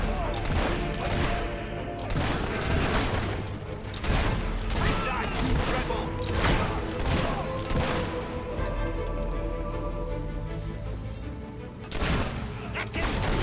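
Dense gunfire rattles through a battle in the video game Fable 3: rapid overlapping shots and booms, loud and continuous, with occasional voices in the game calling out over the noise.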